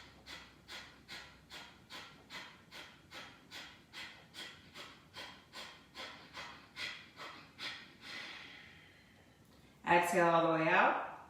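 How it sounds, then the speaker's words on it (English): Rapid rhythmic breathing exercise, about fifteen quick forceful nasal breaths in a steady pulse, then a longer slow exhale and a louder deep breath close to the mic. "Cleansing breath in. Cleansing breath out."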